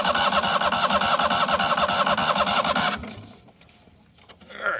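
A neglected 1998 Yazoo YTKC22 three-wheel mower's engine runs loud and rough for about three seconds, then cuts out abruptly, leaving near silence and a faint rustle.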